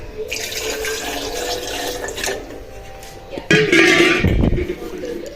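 Water pours into a cooking pot in a home kitchen, a splashing stream that grows louder and fuller toward the end, with a voice talking over it.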